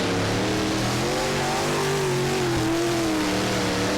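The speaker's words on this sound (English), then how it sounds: "And here they come down the back straightaway. Brett Moffitt 12 leads the field in the 12 car" Race cars roar off the green flag at Thunder Hollow Speedway, a loud dense engine howl climbing in pitch as the pack accelerates close by, a continuous wall of revving with no talk.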